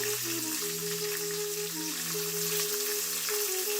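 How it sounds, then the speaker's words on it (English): Green chilies and ginger dropped into hot oil for bread upma crackle and sizzle steadily and close, a dense frying hiss with a faint tonal hum underneath and no talking. "this is where I'm going to add the green chilies to kind of cool down a little bit, the oil, and then the ginger"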